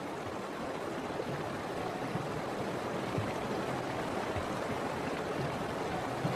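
Cold, fast-flowing river water in a wild landscape crossed by migrating animals: a steady, broad rushing roar, even and continuous, moderately loud with no voices.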